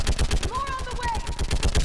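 Rapid gunfire from a firefight in the video game Mass Effect 3, loud and close bursts of shots in a steady rhythm, with shouted voices over the top.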